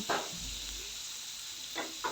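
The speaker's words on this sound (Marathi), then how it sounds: "फोडणी छान परतून घेते आहे" Onions, green chillies and curry leaves sizzle in hot tempering oil in a pan, making a steady close hiss. Two brief stirring scrapes break through at the start and near the end.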